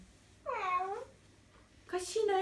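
A cat meows twice, each a drawn-out, rising-and-falling cry, the second brighter and more insistent, close by in a quiet indoor room.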